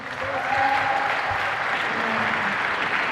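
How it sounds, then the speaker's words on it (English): A crowd claps steadily and loudly for about three seconds, a dense wash of applause with no pauses. "Please give a round of applause again for all you."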